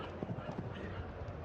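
Horse hooves thud on the footing of a show jumping arena, faint and distant beneath a commentator's steady talk.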